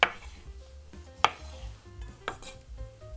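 A kitchen knife halves cherry tomatoes on a cutting board for an avocado cucumber salad, three sharp, separate knocks of the blade against the board over a quiet kitchen background.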